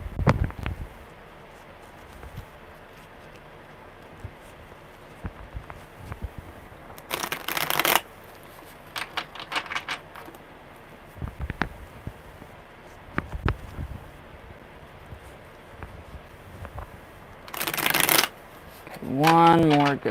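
Tarot cards being shuffled in several bursts, crisp riffling rattles separated by quieter handling, with a brief voice near the end.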